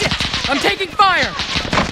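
Gunfire in Call of Duty Warzone, with short rapid shots mixed with a voice speaking, close and loud in a brief burst.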